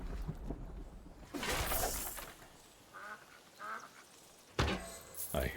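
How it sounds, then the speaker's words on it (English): Ducks quack in bursts within the Soulframe video game world, some calls louder and nearer, others fainter, over a rushing ambient bed, with brief clatter and movement sounds between them. "I hear ducks."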